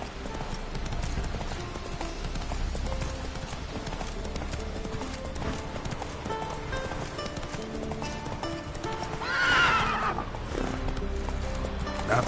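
Roach, a horse in The Witcher video game, clip-clops steadily at a trot over a continuous game soundscape, then lets out a loud whinny near the end.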